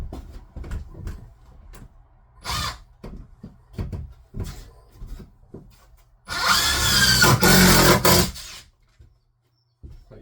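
Power drill toenailing fasteners at an angle into a wooden stud during a custom shower build: several short clunks and taps lead into one loud, sustained whirring drive of about two seconds, close up, then a quiet tail.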